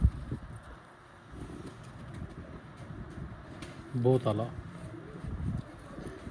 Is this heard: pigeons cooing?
yes